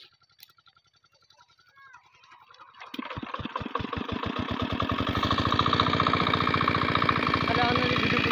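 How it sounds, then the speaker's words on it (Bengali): An irrigation pump engine watering a mustard field starts after a quiet stretch with a few faint sounds, then settles into a steady, close, loud chugging run that builds slightly over several seconds. "এখন মেশিনটা আবার স্টার্ট করতেছে"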